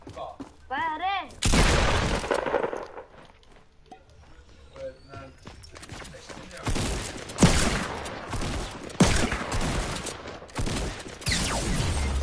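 Gunfire in a first-person video game named Lazarus: bursts of rapid shots and sharp cracks come in several loud clusters, with footsteps in between, while players talk excitedly over the action.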